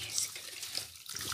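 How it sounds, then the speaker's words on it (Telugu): A glass of water goes into a cooking pan of dried-fish curry with tamarind leaves, chili powder and turmeric, giving a brief close splash and trickle lasting about a second. "1 గ్లాస్ వాటర్ ఇప్పుడు మనం దీంట్లోకి వేసుకోవాలన్నమాట."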